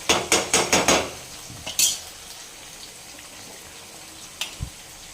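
Chicken pieces fry in a pan while a utensil knocks and scrapes against it in a quick run of sharp clanks, followed by a soft, low sizzle and one more faint knock near the end.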